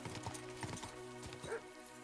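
Horse hooves clip-clop at a steady pace in Kingdom Come: Deliverance II, with a brief whinny over a low sustained game backdrop.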